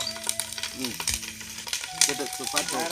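Green chillies frying and being stirred in a pan for village-style biryani: a loud sizzle with scraping stirs, while people talk over it in the foreground.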